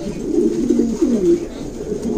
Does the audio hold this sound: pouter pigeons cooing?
yes